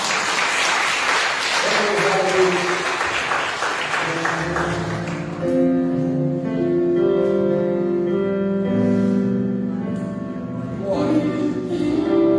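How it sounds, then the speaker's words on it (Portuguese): A church congregation claps loudly for several seconds, then the applause fades as sustained keyboard-like musical tones take over and continue alone. "Você pode aplaudir Jesus?"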